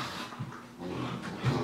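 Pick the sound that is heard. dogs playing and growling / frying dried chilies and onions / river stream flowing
dogs playing and growling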